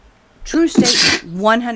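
A single loud, close sneeze bursts out during a live question-and-answer chat, with a brief voiced wind-up and a sharp noisy explosion followed by a short voiced tail; someone speaks briefly right around it.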